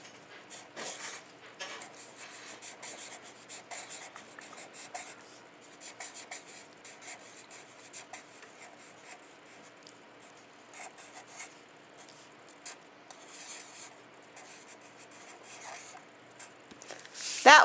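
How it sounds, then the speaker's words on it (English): Pen writing on a paper Mother's Day card, close, soft scratchy strokes in short bursts with pauses between, fairly quiet throughout. "I'm going to write"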